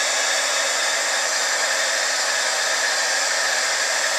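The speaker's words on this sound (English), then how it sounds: "We'll go ahead and move this out of our way before we use the embossing gun." Embossing heat gun blowing hot air onto black embossing powder on a Halloween card, a steady close hair-dryer-like whoosh held at constant loudness throughout, no talking.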